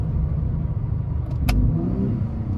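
A 2021 Ford F-150 Raptor pickup engine blipping its revs to match a paddle-shifted downshift, heard as a steady rumbling drone from inside the cab with a brief rise in engine pitch and a sharp click midway.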